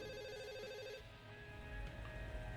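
A telephone rings in a video game, steady electronic tones repeating over a busy game soundscape, with no talk over it.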